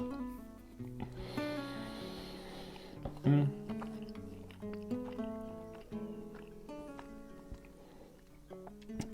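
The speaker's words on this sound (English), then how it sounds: "Chews sound heavy." Someone chews food loudly while eating dinner, with soft, close mouth sounds and bites scattered through a bed of gentle background music.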